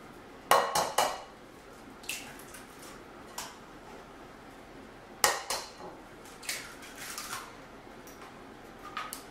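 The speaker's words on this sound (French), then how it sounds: "On va commencer par mettre les œufs." Eggs cracked and dropped into a bowl for madeleine batter, heard as sharp clinks and taps of shell against a rim, a few separate knocks spread out over quiet kitchen background, with no talking.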